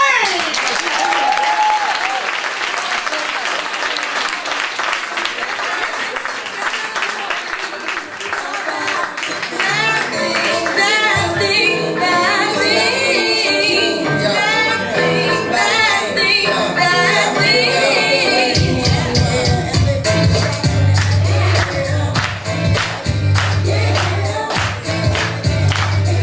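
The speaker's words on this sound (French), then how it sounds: "Fait qu'applaudissez très fort, mademoiselle Christelle Quentin!" An audience breaks into loud, sustained applause at a live stage show, dense clapping that swells and holds throughout, with a voice and some cheering over it and a low rumble joining toward the end.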